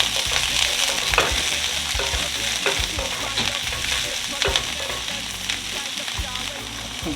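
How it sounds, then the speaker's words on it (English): Cabbage and broccoli sauté with chopped garlic in a hot pan, a loud steady sizzle broken by repeated spatula scrapes and stirring clatter, close up and without talk. "I'm just sauteing them just a little bit"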